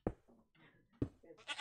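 A Minecraft goat bleats twice in quick succession, each call opening with a sharp onset and wavering off, close and fairly clear with a brighter noisy burst at the end.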